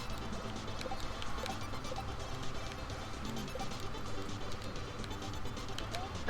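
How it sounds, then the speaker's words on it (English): Rain falling steadily in a dense, even patter, a continuous hiss with small scattered taps that holds at the same level throughout, with no voices. "It's really raining."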